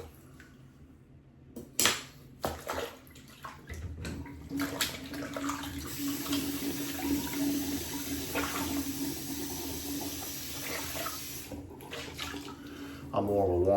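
A tap runs into a basin after a straight razor shave with a CT Bingham Fox Wedge, a steady splashing stream that builds after a few clunks and handling knocks, close by and fairly quiet.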